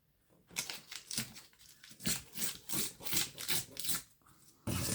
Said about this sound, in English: just need to rip off this bottom edge just to sort of level it up with my piece of corrugated cardboard